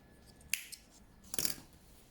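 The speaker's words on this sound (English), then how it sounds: "now I am ready to cut my yarn" Scissors cutting cotton crochet yarn for an elephant baby rattle, two quick, crisp snips close by in an otherwise quiet room, the second slightly longer.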